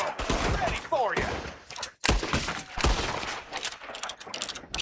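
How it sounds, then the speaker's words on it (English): Enemy gunfire from a Red Dead Redemption shootout ambush, dense cracking shots and volleys in rapid succession, loud and close, with a few sharp louder blasts scattered through the clip. "there's another one shooting from the window."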